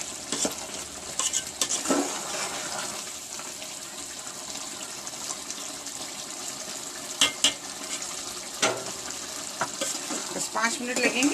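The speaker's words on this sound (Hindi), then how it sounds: "इसको और 5 मिनट तक भूनेंगे।" Palak gosht, spinach and meat cooking in ghee, sizzles steadily in a pan while being stirred, a continuous close frying hiss broken by occasional scrapes and knocks of the spoon.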